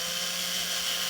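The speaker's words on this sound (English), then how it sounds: "I'm going to drill on the top of these two with a size 5" A steady high-pitched whine of a drill boring with a size 5 bit into the top of a large compass part, continuous and close for about a second with no talking.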